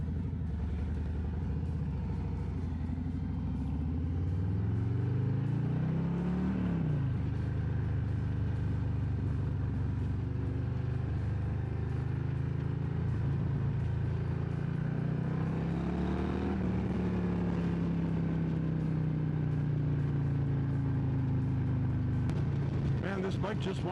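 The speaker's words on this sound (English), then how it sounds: "This bike just wants to get up and go." Motorcycle riding a winding road with blind corners, engine note rising and falling steadily through gear changes and throttle swells, close and continuous for the whole stretch.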